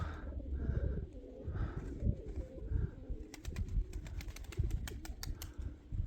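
Soft, repeated pigeon coos rise and fall over low outdoor rumble, followed by a burst of rapid wing fluttering near the end.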